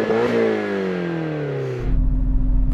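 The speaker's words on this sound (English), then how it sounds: "now let's have a listen to the Nissan." A Nissan car engine revs up high, then its pitch slides steadily down before the engine drops into a low, rumbling idle, close and loud with no talk.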